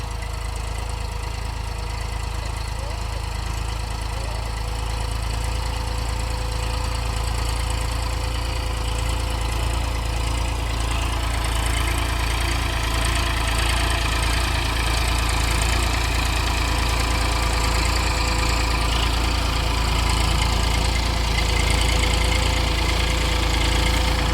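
A tractor engine idles steadily on a sugarcane farm where a cart is loaded with cane, a continuous low rumble with a mechanical knock running unchanged for the whole stretch, with no talking.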